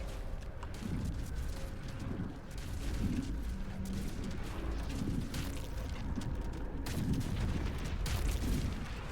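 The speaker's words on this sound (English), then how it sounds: "Oh boy, it's exploding." A dense, continuous roar of explosive fire and crackling blasts in the video game Baldur's Gate 3, loud and sustained throughout with rumbling low booms and no speech over it.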